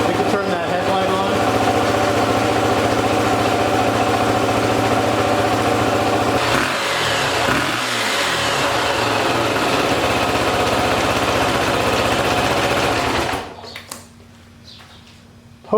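A Honda XR250R motorcycle engine idling loudly and steadily up close, a droning throb that holds for about thirteen seconds before cutting off abruptly to near silence.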